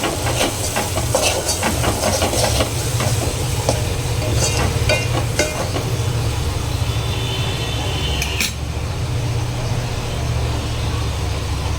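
Dried cowpea curry sizzling steadily in a pan as spices are stirred in, with continuous frying hiss and scattered clinks and scrapes of a spoon throughout.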